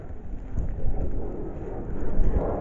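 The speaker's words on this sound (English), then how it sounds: "It is just lightly raining." Light rain falls steadily outdoors, a soft broadband patter with low rumbling texture that swells slightly in places, with no talking.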